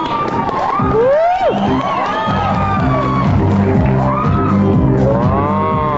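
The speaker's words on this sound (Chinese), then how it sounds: "掌声欢迎他们" Loud crowd cheering, whoops and shouts at a model competition show, steady through the whole stretch, with voices and some music-like tones underneath.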